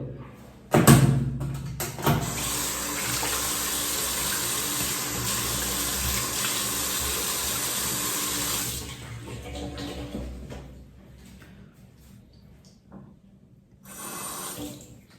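Water runs steadily from a tap for several seconds, wetting a shaving stick during a travel shaving routine with a brush and razor, then stops, leaving a quieter room with faint clatter and a brief splash near the end.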